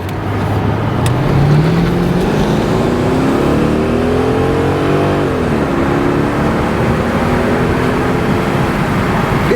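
A Mercedes-Benz SL 500 Roadster with a 302-horsepower V8 accelerates smoothly from inside the car, engine note rising through gears with a shift midway, loud and continuous road noise beneath.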